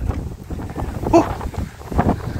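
Strong, cold wind buffets a microphone outdoors near the water, producing gusty rumbling bursts that rise and fall over a couple of seconds, with no one speaking.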